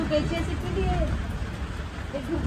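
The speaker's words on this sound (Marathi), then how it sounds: "बघा किती खतरनाक पाऊस होतोय आमच्या इकडे" Steady heavy rain hisses and patters throughout at night, with faint voices underneath.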